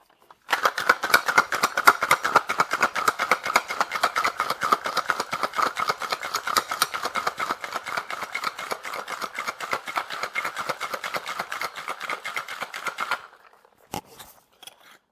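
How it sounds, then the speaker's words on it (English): A caramel apple martini is shaken hard in a cocktail shaker, giving a rapid, even rattling that runs for about twelve seconds before stopping abruptly, followed by a couple of brief knocks. "Lastly, we're going to shake."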